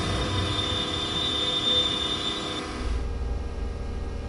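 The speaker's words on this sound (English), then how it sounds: "The train has safely come to a stop." Train braking to a stop in the railway simulator game Train Sim World 4, a steady rumbling roll with a thin high brake squeal held for a couple of seconds before it fades into low running noise.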